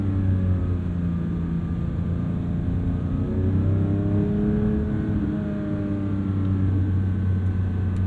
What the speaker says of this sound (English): that's the beauty of a naturally aspirated 4-liter flat six